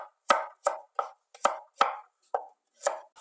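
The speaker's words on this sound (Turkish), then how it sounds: "3 diş sarımsağım var. Üzerlerine vuruyorum. Ve bunları da minik olarak doğruyorum." A knife chops three garlic cloves into small pieces on a cutting board, about eight crisp, evenly spaced strikes heard up close.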